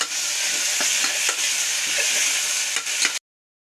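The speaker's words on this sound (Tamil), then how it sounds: "இதையும் சேர்த்து நல்லா வதக்கிக்கலாம்" Chopped tomato sautéed in hot oil for banana flower biryani, a continuous close sizzle broken by a few spoon scrapes, ending abruptly in silence.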